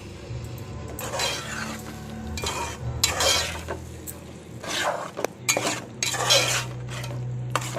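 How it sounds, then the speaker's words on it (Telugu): Gongura curry with dried shrimp stirred in a pan, a spoon scraping and clinking against the metal in irregular bursts over a low steady hum, close and fairly loud with no talking. "మొత్తం కూర అంతా కలిసేటట్టు ఒకసారి తిప్పుకోండి"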